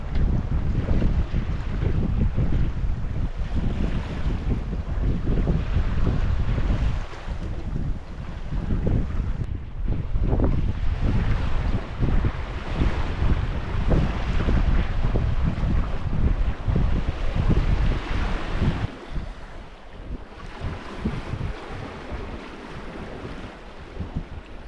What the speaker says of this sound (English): now we've got the head sail out and we're getting around 4 knots pretty consistently